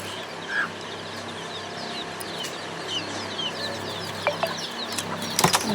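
A hen and her newly hatched chicks at a village home: the hen clucks low while the chicks peep in thin, high calls, with scattered close bursts that grow busier toward the end.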